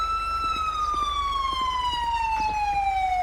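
A wailing ambulance siren in GTA V sweeps steadily in a continuous, slowly falling tone, loud and close, with no talk over it.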